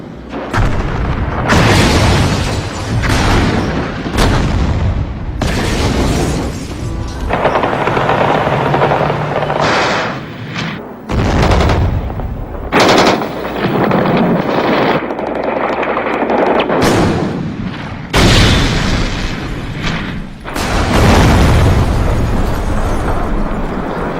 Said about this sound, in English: he ordered troops to storm the White House, shelling the very building he had defended 2 years earlier